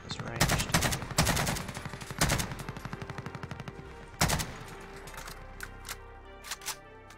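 Gunfire aimed at the player in a video game, sharp bursts of automatic shots up close, several volleys in the first half and a single loud burst later, fading to scattered distant shots.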